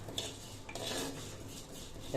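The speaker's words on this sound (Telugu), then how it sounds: "మనం ఇప్పుడు కందిపప్పు డైరెక్ట్గా కుండలో వేయించేసుకుంటున్నా" Toor dal dry-roasts in a clay pot, stirred with a utensil in quiet, continuous scraping and rattling strokes, close and soft.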